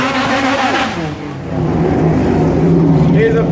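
A supercar's engine revs as it leaves the line at the Goodwood Festival of Speed while warming its tyres, a loud, rising and falling roar with a commentator talking over it.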